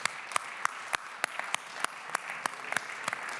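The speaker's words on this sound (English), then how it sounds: "please do a round of applause for all people who are still there" A seated audience gives a steady round of applause after closing remarks, dense continuous clapping with a few sharper claps standing out, moderately close and without speech.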